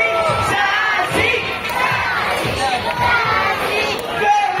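A crowd of girls in the audience at a sea lion show cheers and shouts for Sassy, a continuous loud mass of young voices chanting and yelling.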